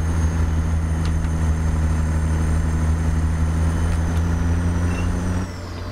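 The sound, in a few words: Peterbilt 379 truck engine climbing in low gear, American Truck Simulator video game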